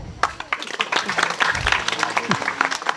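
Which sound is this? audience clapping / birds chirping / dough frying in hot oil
audience clapping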